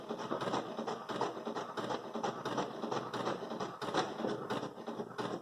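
HP Deskjet 2332 all-in-one inkjet printer running off a black print, a continuous busy whir and rattle of the carriage and paper feed, close and steady with rhythmic pulses throughout.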